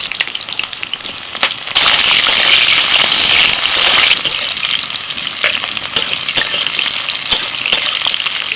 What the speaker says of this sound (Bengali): পনির ভাজার যে তেলটা আছে ওর মধ্যে দিয়ে দিচ্ছি ক্যাপসিকাম